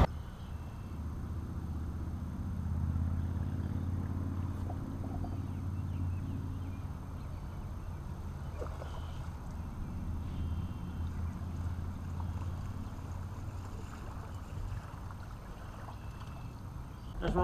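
A fishing boat idles slowly out of a canal on its way to a bass fishing spot, its low engine rumble steady and continuous throughout, with faint water and wind noise around it.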